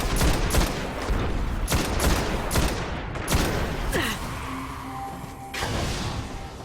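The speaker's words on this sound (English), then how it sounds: "one thing I like about the Vision of Confluence, like I said earlier, was the fact that it is full auto" Rapid full-auto bursts from the Vision of Confluence solar scout rifle in Destiny, a string of sharp, close shots with whooshing game effects and a short pause before firing resumes.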